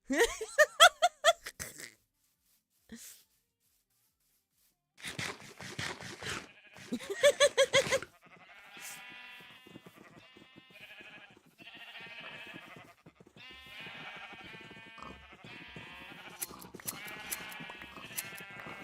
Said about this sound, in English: Sheepy! Give me wool.